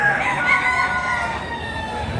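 A white Kelso rooster crowing at a poultry market, one loud, drawn-out call close by that trails off, with faint background bustle.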